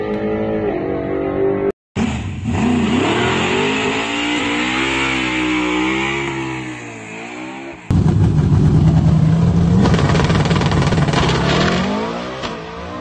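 A car launches hard from a 4,000 RPM hold, its engine climbing in pitch through the gears with a brief cut at each shift, loud and close.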